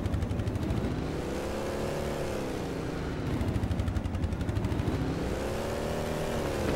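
The Mongoose vehicle from the video game Halo 3 drives along with a continuous buzzing engine, its pitch rising and falling in repeated sweeping waves as it accelerates and eases off, close and steady throughout without speech.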